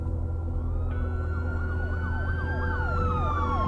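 A robotic police car siren in the video game The Uncertain wails in a rising-and-falling pattern over a steady low hum, starting partway in and growing louder.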